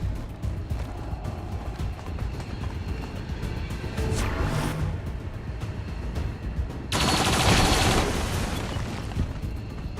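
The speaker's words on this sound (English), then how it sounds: "Taking heavy fire." Heavy gunfire in XCOM bursts over a low rumbling background, first as a short volley midway through and then as a louder, sustained barrage of rapid shots near the end.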